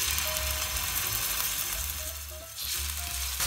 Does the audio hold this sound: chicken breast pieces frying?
yes